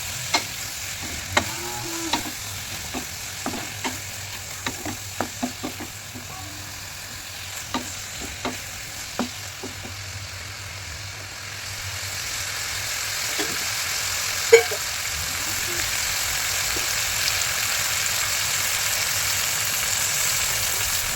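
Spices fry in oil for a village-style small fish curry with green tomato and potato, a soft continuous sizzle broken by frequent sharp spoon taps against the pan early on, then a fuller hiss.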